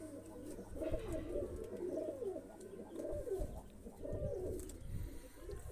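Several pigeons coo in soft, overlapping throaty warbles, continuous and close, with faint background noise.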